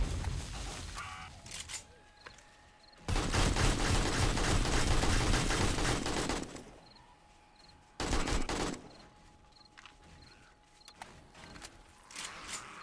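Automated turrets in the survival game 7 Days to Die fire rapid sustained bursts, a loud rattling stream of shots lasting several seconds, pausing, then resuming, with mechanical clicks and softer ambient noise between bursts.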